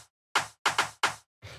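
Fat, punchy rim shot percussion hits, five close, dry strikes in a quick uneven groove, two landing almost back to back, each decaying fast into silence.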